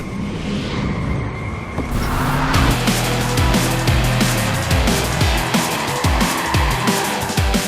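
A race car in Gran Turismo 5 engine roaring and revving through gear changes while its tires squeal and skid through corners, loud and close with no talking.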